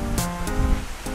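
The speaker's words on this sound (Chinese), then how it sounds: "有水声嘞" A nearby waterfall at Yangmingshan, Taiwan, pours out a steady, continuous rushing roar of water with no pauses, filling the whole stretch at moderate loudness.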